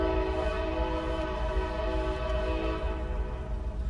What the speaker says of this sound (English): Wow, that's a locomotive horn.